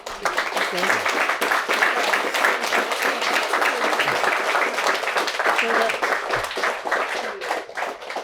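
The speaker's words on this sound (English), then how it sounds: "I think that deserves a big, big round of applause." An audience at a tribute show for an Irish composer and musician gives a sustained, dense round of applause, loud and continuous throughout.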